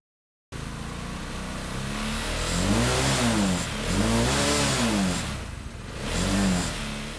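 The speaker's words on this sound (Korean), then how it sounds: "거친 웃음소리 몰아치듯 한껏 그르렁대는 엔진." A student-built race car fitted with a 510cc motorcycle engine revs hard in repeated rising and falling bursts, loud and close, with no talk over it.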